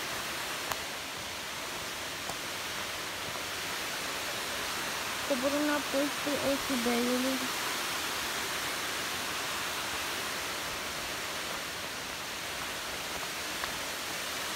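Small waterfalls in the Nera gorge near Ochiul Beiului rush in a steady, broadband hiss of falling water, constant and enveloping, with a person speaking briefly over it midway.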